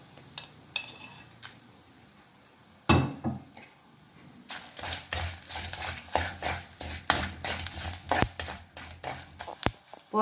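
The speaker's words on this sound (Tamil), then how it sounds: "இப்போ வந்து வரமிளகா, மராத்தி மொக்கு, பிரிஞ்சி இலை எல்லாம் போட்டு, பட்டை எல்லாம் போட்டு பொரிஞ்சிருச்சு." Dried red chillies, marathi mokku, bay leaf and cinnamon frying in hot sesame oil with fennel seeds: soft sizzling under repeated clinks and scrapes of a spoon stirring in the pan, with no talking.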